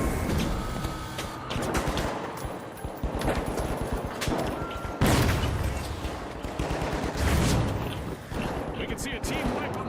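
Dense, continuous gunfire and rocket-propelled grenade blasts from the video game The Finals, loud and rapid throughout with heavy bursts around the midpoint, while a voice talks over the combat.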